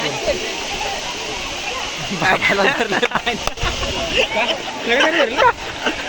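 The Bhivpuri waterfall in monsoon makes a constant rushing roar of falling water, while friends chatter and call out over it nearby.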